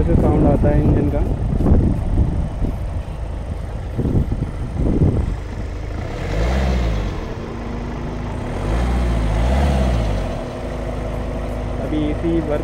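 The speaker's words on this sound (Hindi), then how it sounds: "कुछ इस तरह से साउंड आता है इंजन का।" A Hyundai Venue's engine runs at idle with a steady, close, low rumble, and some vocal sounds are heard near the start.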